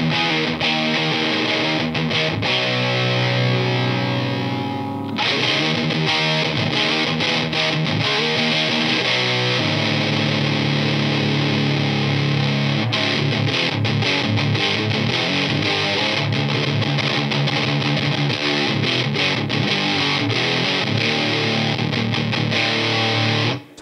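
Heavily distorted electric guitar through a Pro Co Lil' Rat Mini distortion pedal with the gain three-quarters up, a sustained chord then a stream of gritty riffs and chords, loud and unbroken, no speech.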